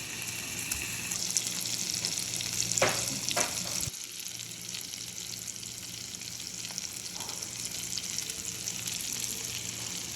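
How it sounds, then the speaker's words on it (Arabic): Salmon pieces frying in a pan give a steady close sizzle and crackle, with a couple of brief louder spatters before the hiss settles and carries on evenly. "هنحطهم يتقلبوا وياخدوا لون ويستووا بالقلاية"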